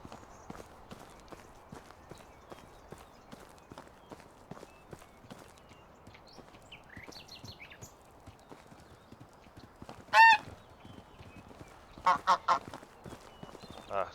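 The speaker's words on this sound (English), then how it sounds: "So you can buy the goose" Geese honk in the farming game Medieval Dynasty, a few short bright calls standing out over steady horse hoof clip-clop and quiet outdoor ambience, with a quick burst of three or four honks near the end.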